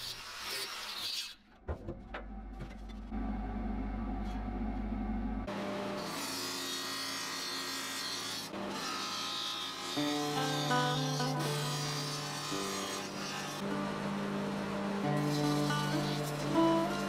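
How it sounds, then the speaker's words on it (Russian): A variable-speed angle grinder works a steel helmet, giving a continuous grinding whine that shifts in pitch as the disc bites and speed changes, loud and close and alone, after a brief lower-pitched start. "А еще я использую болгарку со скоростями."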